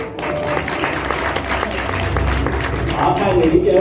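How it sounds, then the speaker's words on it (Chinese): An audience claps at an awards ceremony honoring top-performing real estate agents in New Taipei. The sustained, loud crowd applause fills the hall and blends with voices and hall noise. "掌声恭喜"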